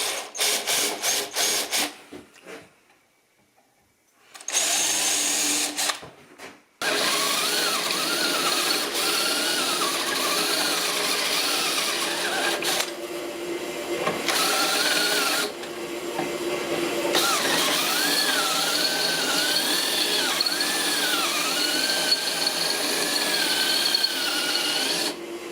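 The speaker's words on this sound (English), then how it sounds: "So I'll just drill them out." A drill bores out spot welds on the spring mounts of a 1976 Mazda RX-5 Cosmo. It gives a steady whining grind with pitch wavering under load and is broken by short pauses near the start, close and loud.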